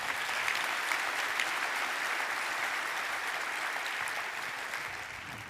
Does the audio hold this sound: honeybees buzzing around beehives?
no